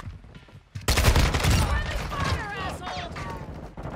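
Rapid automatic gunfire from a Kastov 74u in Modern Warfare 2 gameplay, loud bursts starting about a second in and continuing throughout, with other game sounds and brief talk mixed in.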